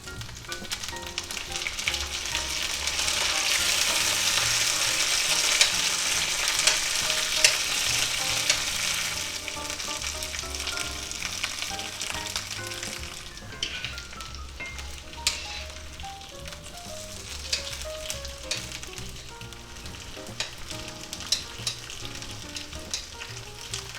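Thick boneless pork chops sizzle steadily in a cast iron skillet, a dense, loud frying hiss with occasional scrapes and clinks as they are turned, no talking throughout.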